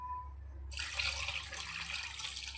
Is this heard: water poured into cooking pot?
yes